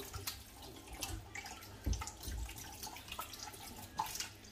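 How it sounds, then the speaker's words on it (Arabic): Tap water runs steadily into a sink while hands are washed, with splashing and a few louder bursts of water hitting the basin. "دابا غادي نمشي نغسل الايد ديالي نغسلها مزيان"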